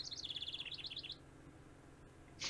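A person imitating bird sounds in a fantasy role-play, a rapid run of high, chirping tweets for about a second, then quiet background hum.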